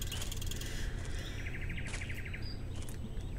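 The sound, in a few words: bird chirping ambiance in Cabela's Big Game Hunter 2010 video game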